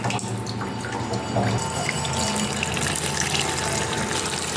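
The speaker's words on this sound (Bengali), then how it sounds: "মাছটাকে এখন আমি ধুয়ে ফেলবো" Running tap water splashes steadily into a sink as pona fish (small carp) are rinsed under the faucet, a continuous close hiss with slight variations from hands moving the fish.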